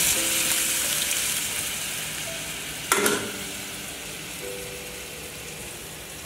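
Hot water poured into a well-fried spice masala for a chhana curry, with steady frying sizzle throughout and a sharp burst of splashing hiss near the middle, then settling back to a bubbling sizzle.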